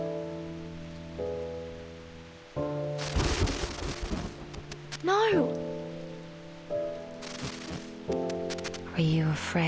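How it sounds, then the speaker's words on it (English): Rain pours down in a scene from the video game Reverse 1999. It swells in two heavy bursts over a sustained musical backdrop, and a character cries out briefly. "But why is it still raining?"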